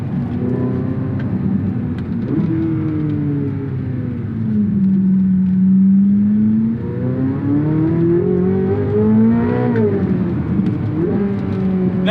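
A Corvette C8 Z06 with its naturally aspirated engine accelerating hard, the loud close exhaust note climbing steadily through the gears with brief dips at each shift and rising again.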